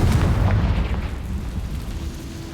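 A Confringo blasting spell detonates in Hogwarts Legacy, a heavy booming explosion with a rumbling low roar that slowly fades over a couple of seconds.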